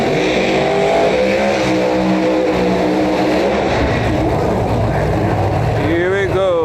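Drag race cars launching down the strip at the Snowbird Outlaw Nationals, a loud continuous engine roar with rising revs and a sharp high whine near the end, an announcer talking over it.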